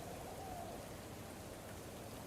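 Steady rain in the medieval colony-building video game Going Medieval, a soft continuous hiss of falling drops that stays even and fairly quiet throughout, with no voices.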